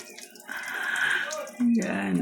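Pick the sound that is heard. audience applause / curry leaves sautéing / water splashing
water splashing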